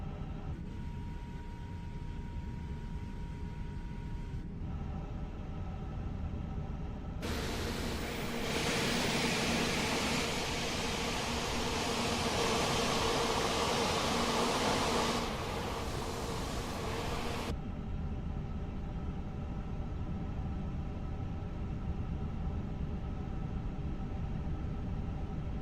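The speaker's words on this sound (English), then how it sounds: "We have a good engine start" Airbus A350-1000 jet engine running in Microsoft Flight Simulator 2020, a steady broadband roar that swells loudly for about ten seconds mid-clip over a constant cockpit hum, then drops back.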